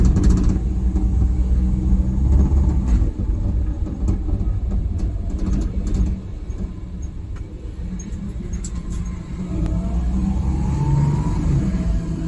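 A Suzuki DA64W with a non-turbo engine accelerates in first gear. A loud, rumbling engine and road roar fill the cabin throughout, and the pitch climbs faintly toward the end.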